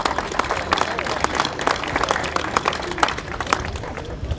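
Audience applause at a Critérium du Dauphiné cycling ceremony, a dense steady wash of clapping from a crowd with some voices mixed in, continuing throughout.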